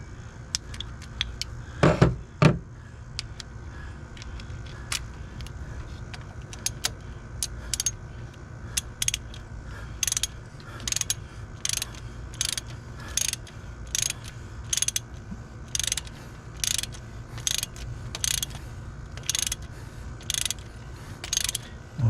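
A ratchet tool turns a nut on an injector in a 2000 Ford F-250. After a couple of early clunks, it clicks in steady, evenly spaced bursts of ratcheting, close and crisp, with no talking.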